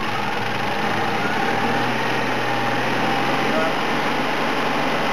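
A Citroën 2CV engine runs steadily with a rising rev, a continuous near mechanical drone with a faint hum, while someone talks over it.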